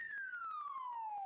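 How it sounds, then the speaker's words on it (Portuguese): A police siren sound effect gives one loud, clean electronic wail that sweeps steadily downward in pitch, heard alone over a short stretch. "Solta a sirene."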